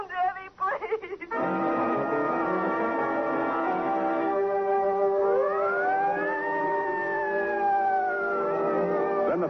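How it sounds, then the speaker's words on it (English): Police sirens in an old radio drama, starting with a short rattle of noise before a loud, steady wail, then sweeping howls that rise and fall, with a second siren joining and tones overlapping. "Then the sirens howl because a man is dead, and their cry tears a path through the wilderness of the city"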